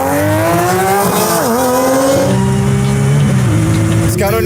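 A Porsche GT3 RS races a Ferrari 360, high-revving engines loud and close, pitch climbing through gears with shifts and a dip, sustained roar throughout.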